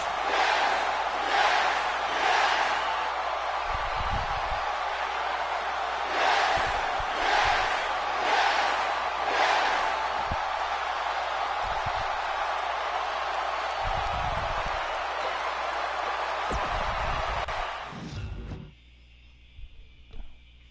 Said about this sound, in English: The crowd here tonight certainly seemed to appreciate the efforts.